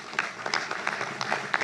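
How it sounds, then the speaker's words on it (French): An audience claps at a regional conference against food insecurity, honouring the Coop Alim Occitanie initiative; a brief, lively burst of dense clapping with a few sharper individual claps standing out. "On peut les applaudir très fort"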